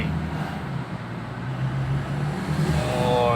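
A tuned 2020 Toyota Innova engine revs up, its low droning tone climbing and holding with rising pitch toward the end, heard steadily at moderate distance.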